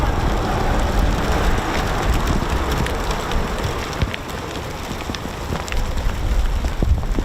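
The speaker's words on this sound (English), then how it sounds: "Actually got hailstones, man. Rain that you can pick up." Hail and rain hammer down at an RAF station, a dense continuous patter of hard pellets striking surfaces close by, steady and loud throughout with some wind noise on the microphone.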